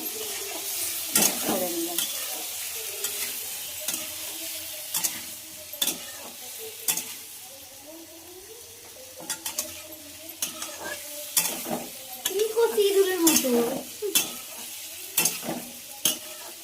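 Peanuts are lightly fried in a pan, with a soft sizzle beneath repeated scraping stirs and clinks of a spoon against the metal pan; no one speaks.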